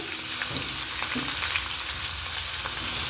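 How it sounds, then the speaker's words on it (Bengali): Onion paste and garlic fry together in a pan with a dense, continuous sizzle, broken by light scraping and stirring clicks. "এটা একটু লালচে করে ভেজে নেব"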